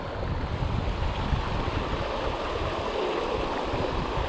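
Rough water of the Colorado River rushes in a broad, steady roar, dense and continuous, close by with some wind buffeting and no voices.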